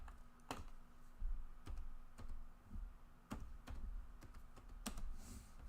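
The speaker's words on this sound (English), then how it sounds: "Hey, I was typing in there." Someone types on a computer keyboard nearby, with quiet, irregular key clicks and taps spread over a few seconds, alone and without talk.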